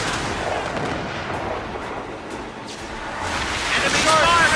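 Ship cannons fire during a naval battle in the video game Assassin's Creed Rogue, a steady roar of booming gunfire over surf and wind, with shouted voices in the background.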